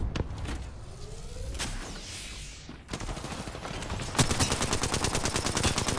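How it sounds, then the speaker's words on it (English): Gunfire in the video game Apex Legends: a few shots and a whooshing sweep, then a steady rapid stream of automatic fire that grows louder toward the end. "I'm shooting the guy that was behind"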